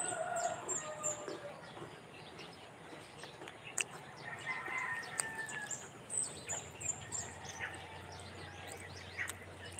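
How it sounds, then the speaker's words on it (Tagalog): Birds chirp and call around a rural home beside an unpaved road, with short bright tweets and scattered calls over a steady low background. A rooster crow is not clearly distinct among them. "Ibon."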